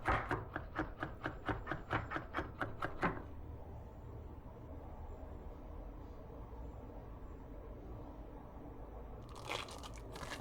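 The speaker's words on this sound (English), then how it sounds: "I'm going to peel and chop 2 cloves of garlic and set that aside" Garlic cloves being peeled and chopped on a board for carbonara: a quick run of about a dozen crisp, evenly spaced knife chops in the first three seconds, then quiet, with a brief rustle near the end.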